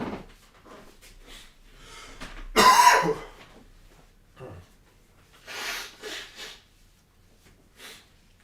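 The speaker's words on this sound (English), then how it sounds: "I was blowing my nose." A person blows their nose in a sharp, loud honking burst, followed by a few softer sniffs and snorts, close to the microphone in an otherwise quiet room.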